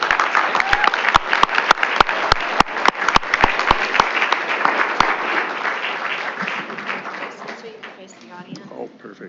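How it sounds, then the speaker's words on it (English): An audience at a school board meeting applauds a retiree, a loud burst of clapping that swells and then slowly thins out, with a voice speaking toward the end. "feel welcome to clap after each person, too"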